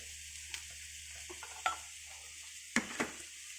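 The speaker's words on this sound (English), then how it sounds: "we're going to fry it more" Spices, including coriander powder, fry in a pan for Indian-style scrambled egg: a low, quiet sizzle under a few sharp spatula scrapes and taps against the pan, close up, with no speech.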